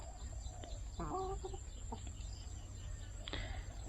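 Outdoor laying hens foraging in the evening, with a few soft clucks and short calls scattered over a steady low rumble and a constant high insect-like whine, moderately distant.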